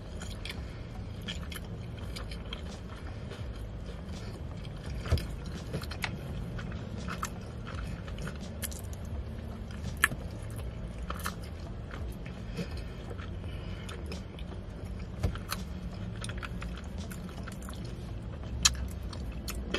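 Chewing on a crunchy shrimp sushi roll dipped in soy sauce with wasabi and ginger, close-up, with repeated crisp crunching bites and mouth sounds scattered over a low room hum for about twenty seconds, with no talking.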